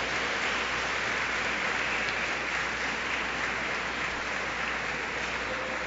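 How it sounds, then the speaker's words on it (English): A large audience at a lecture gathering applauds steadily, a dense, even wash of clapping that holds at full strength without letting up. "Give yourselves a round of applause."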